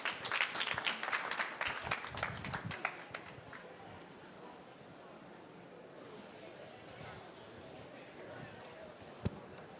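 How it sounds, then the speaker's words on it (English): Audience at a COP29 climate conference dialogue on livestock gives brief applause as a speaker comes to the stage; the clapping lasts about three seconds, then the room settles into quiet murmur and shuffling. "Please give him a round of applause as he joins the stage."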